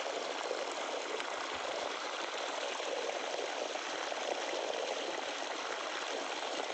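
Water from a motor pump flows into a pit, making a steady, even outdoor rush of broadband splashing that carries on unbroken with no voices.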